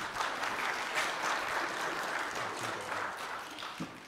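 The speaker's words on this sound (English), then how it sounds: "Let's quietly clap for baby and family." A church congregation claps softly for a baby and family at a worship service, a gentle, steady patter of many hands that fades slightly toward the end.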